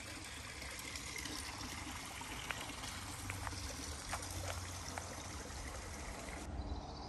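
Creek water trickling out from rocks at a spring, a steady soft babble of running water heard close with small splashes and drips throughout, no voices.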